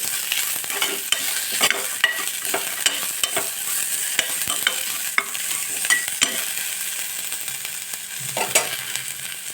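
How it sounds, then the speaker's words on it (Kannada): Sprouted legumes frying in a little oil for a sambar, a close, steady crackling sizzle punctuated by sharp scraping stirs and taps at irregular intervals. "ಸ್ವಲ್ಪ ಎಣ್ಣೆಯಲ್ಲಿ ಕಾಳು ಚೆನ್ನಾಗಿ ಫ್ರೈ ಮಾಡಿರಿ"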